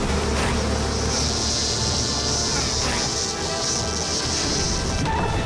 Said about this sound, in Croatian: Skakavci.